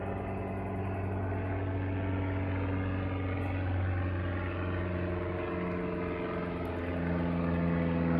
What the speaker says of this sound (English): now there's a plane. It is flying so low.